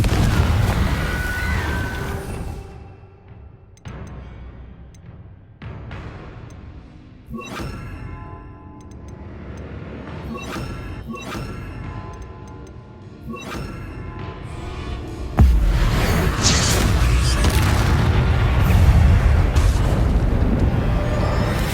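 Repeated spell blasts from Hogwarts Legacy sound as a string of sharp booming bursts with ringing tails, followed by a louder, denser crackling barrage near the end, with no talking.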